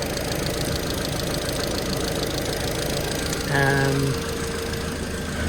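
A 2012 Audi A4 engine idles steadily with a close, constant low rumble and faint knocking texture while coolant circulates, a brief tonal whine rising over it for about half a second; a voice speaks a single word.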